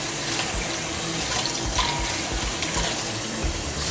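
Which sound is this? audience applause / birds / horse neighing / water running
water running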